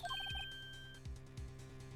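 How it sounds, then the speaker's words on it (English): A phone ringtone from the Rise from the Ashes video game chirps in a quick melodic burst of electronic tones. Low thumps follow, all faint. "I heard a phone ring now."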